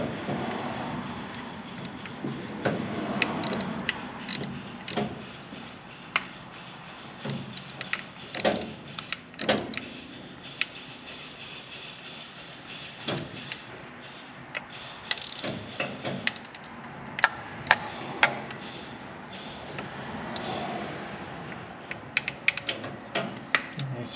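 A distributor is tightened down with a ratchet, heard as bursts of quick, close mechanical clicking between pauses and small metallic knocks, with a voice speaking at times.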